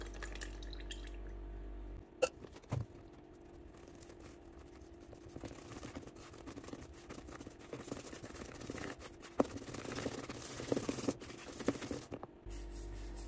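Milk being stirred into chocolate plumcake batter in a bowl, a steady wet scraping and sloshing that runs continuously at close range with no talk.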